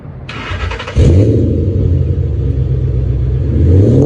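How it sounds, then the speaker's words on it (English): A Ford Mustang engine starts with a sharp burst, then settles into a deep, loud exhaust rumble that rises slightly near the end. "let's hear the exhaust. I think it's a muffled one."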